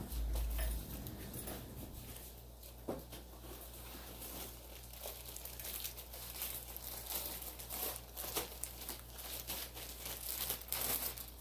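Plastic packaging crinkling and rustling as a Wolfram W-3000.1 car amplifier is unboxed, a quiet run of irregular crackles and tearing bursts at close range.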